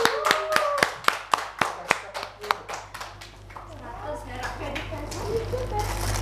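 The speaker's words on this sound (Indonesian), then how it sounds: "Beri tepuk tangan buat teman kalian." A classroom of students gives a student a round of applause, with a burst of loud, sharp claps over the first few seconds that thins into scattered claps beneath faint children's voices.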